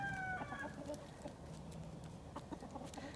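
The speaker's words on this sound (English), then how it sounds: "These are the old barn chickens, free rangers." Free-range barn chickens cluck softly nearby, short scattered calls over a quiet farmyard background, with a brief higher squawk at the start and a faint crow-like note among the flock.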